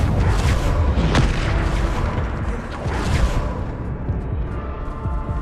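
Bombarda spell explosions in modded Hogwarts Legacy, a series of heavy booming blasts with crackling debris, repeated in quick succession and fading into a rumbling tail.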